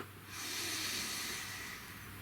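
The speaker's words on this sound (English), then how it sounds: "Please take a nice deep breath." A single slow, deep breath taken close to the microphone: a soft airy hiss that swells, holds for about a second and a half, then fades, with no talking.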